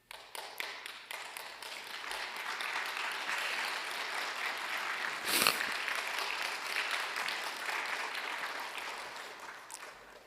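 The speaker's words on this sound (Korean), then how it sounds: "설교하다가 박수 받아본 건 이번이 처음이네요" A church congregation claps during a Wednesday sermon, a few scattered claps at first swelling into steady applause from a modest crowd, with one sharp knock midway, heard fairly close and without speech.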